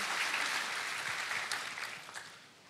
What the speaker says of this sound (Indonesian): Yang percaya berikan tepuk tangan buat Allah kita.